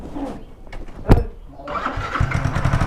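Yamaha R15 V3 motorcycle with a rocker arm noise fault, its engine catching and settling into a close, rough idle after a sharp knock, with faint background bustle.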